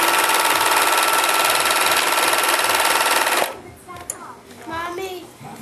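A sewing machine stitching cloth baby wipes runs fast and steady with a dense mechanical whir for a few seconds, then stops, followed by someone talking nearby.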